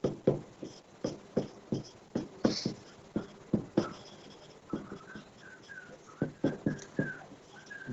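A heading is written on a classroom board, with a steady series of sharp tapping and scratching strokes at an even rhythm, close and fairly quiet, and brief faint squeaks partway through.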